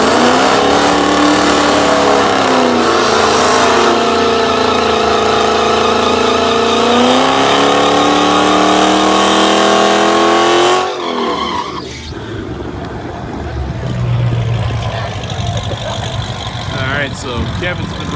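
A Dodge Demon drag car launches down a dragstrip with a loud, sustained engine roar and rising revs for about eleven seconds, then fades into crowd murmur and distant track noise.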